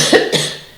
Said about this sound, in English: Excuse me, I'm going to have to cough again.